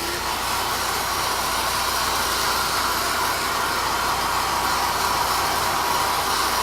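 A hair dryer blows steadily on a craft piece coated in Mod Podge, a constant loud close whooshing hiss with no breaks or speech.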